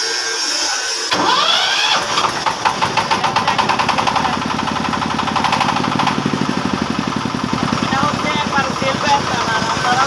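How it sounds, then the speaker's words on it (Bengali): The engine of a mobile auto rice mill vehicle cranks to life and settles into a loud, fast, steady knocking chug close by, with a voice talking briefly over it. "অনেকে বলেন ভাই ভিডিওটা করেন কিন্তু তার অবস্থা দেখান আমি ইঞ্জিনটা একটা করে দেখাচ্ছি"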